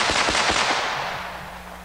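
A Mech Tech 460 Rowland carbine fires a rapid burst of loud, close pistol-caliber shots with sharp cracks, then the echo trails off outdoors.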